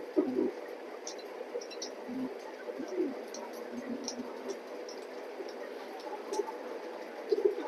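A pair of grizzle racing pigeons coo softly and intermittently, close by but faint, over a steady hiss of background noise.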